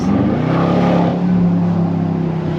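BMW X5 with the X5M-style V8 engine block and a back box delete exhaust, revving loudly and continuously up close with a deep, throaty roar throughout.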